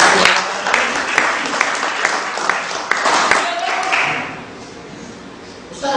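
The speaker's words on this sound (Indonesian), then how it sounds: "Tepuk tangan dong buat Ustaz." Applause from an audience at an Islamic gathering for a Quran teachers' motivational talk, a dense patter of clapping with scattered sharper claps that thins out near the end, with voices mixed in.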